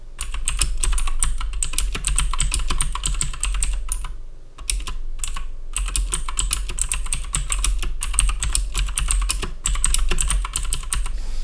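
Continuous rapid clatter of fingers on a computer keyboard, close and steady with a brief pause in the middle before the keystrokes resume.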